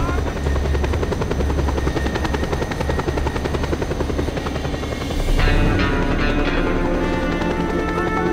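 A helicopter in Just Cause 2 thrums steadily and loudly throughout, a continuous rotor drone that shifts slightly in tone partway through, with no voices.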